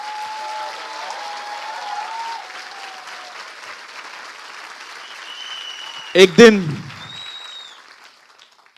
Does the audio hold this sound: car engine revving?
no